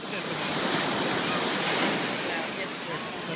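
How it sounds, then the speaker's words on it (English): Ocean surf breaks along the beach at Windansea, a loud, continuous roar of washing waves close by, with wind mixed into the steady rush. "Leo, make sure you're looking at the waves, dude."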